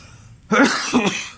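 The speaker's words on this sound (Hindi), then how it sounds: "और ये खांसी भी हो रहा मुझे" A single throaty cough, a short harsh burst followed quickly by a second, after a moment of quiet, close to the listener.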